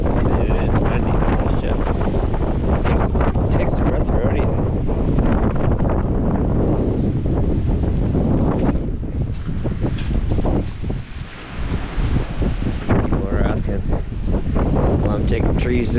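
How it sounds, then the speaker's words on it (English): Strong wind roars and buffets the microphone during a Nova Scotia snowstorm. The gusts are loud and nearly continuous, with a brief lull, and someone talks over the noise. "It is windy."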